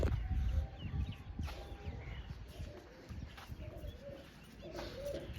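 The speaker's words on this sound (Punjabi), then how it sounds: "ਚੱਲ ਪਹਿਲਾਂ ਕਬੂਤਰਾਂ ਦਾਣੇ ਪਾਈਏ" Pigeons coo softly and repeatedly at close range, over a busy background of fluttering, rustling and light handling noises.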